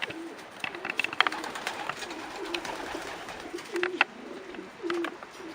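A young white pigeon of this year coos softly in a series of low, repeated calls, with faint ambient noise and occasional brief clicks in the background.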